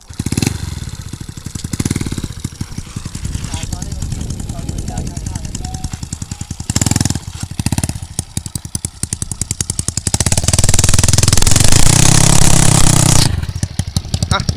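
A Honda Dream motorcycle with a long exhaust pipe revving hard and launching into a tire burnout, a loud crackling engine that rises and falls in bursts before a sustained screeching roar, with someone talking briefly over it.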